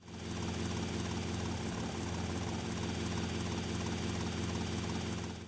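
Helicopter in Grand Theft Auto, a steady loud rotor and engine drone that holds unbroken for several seconds, with no talk over it.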